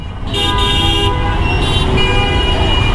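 Car horns blare almost nonstop in a dense traffic jam at Mirpur 10, with long, overlapping honks layered over a steady rumble of engines and road noise.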